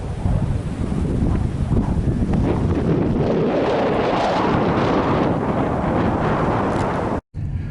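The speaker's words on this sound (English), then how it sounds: "the wind was really whipping out there" Strong wind whipping across Lake George near Astor, Florida, a loud, constant roaring rush battering the microphone with low rumble throughout, cutting out abruptly near the end; no voices.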